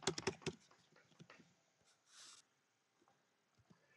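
Quick bursts of computer keyboard keystrokes as a password is typed during a Kali Linux installation: a fast flurry of clicks at first, then a few faint, scattered taps in a quiet room.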